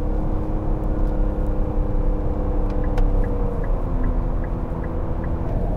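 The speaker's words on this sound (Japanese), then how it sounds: "では合流加速します" A Nissan Aura e-POWER car accelerates to merge onto a highway, heard from the cabin as a steady whirring drone and road rumble, with a faint rhythmic ticking in the second half.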